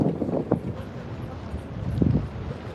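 Gusty wind buffets an outdoor microphone on a Lower Manhattan, New York City walking tour, low rumbling thumps swelling and easing in bursts.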